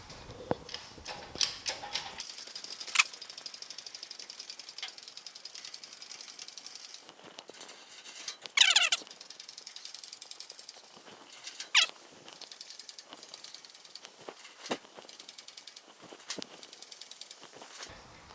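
A jack raises the cab of a 1950 Chevy truck off its frame, giving irregular ratcheting clicks and metallic knocks, close and fairly quiet, with a few louder clanks midway.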